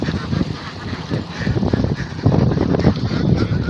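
A crowd of about 250 ducks quacking and honking together in a dense, continuous noisy chorus close by.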